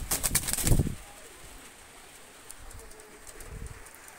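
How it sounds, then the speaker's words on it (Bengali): Two Oman Teddy pigeons are released, with a loud, close burst of flapping wings in the first second, then quiet with only faint, scattered bird sounds afterward. "দুইটা কবুতর ছেড়ে দেখাচ্ছি।"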